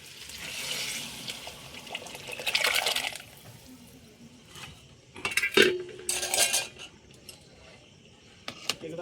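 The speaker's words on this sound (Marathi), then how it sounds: "आता हे चिकनचं शिजवून घेतलेलं पाणी आळणे त्यात ओतून घेऊया." Cooked chicken stock being poured into a pot of chicken biryani, a splashing liquid pour followed by clinks of a utensil against the pot, with quieter gaps between bursts and no voices.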